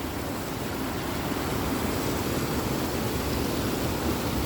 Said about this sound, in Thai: ฟังเสียงน้ำตก ฟังเสียงน้ำไหล